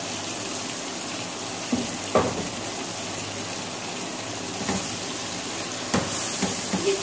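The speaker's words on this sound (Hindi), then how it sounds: "ये थोड़ा सा भून रहा है" Tomatoes sautéing in a pan for chicken yakhni pulao give a steady close sizzle like light rain, with a few soft clinks and stirring knocks scattered over the continuous hiss and no one talking.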